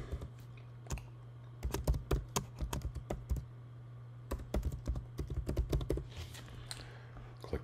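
Keys clatter on a computer keyboard in uneven bursts of quick taps with short pauses, typing a name into a network policy setup, close and fairly clear over a low steady hum.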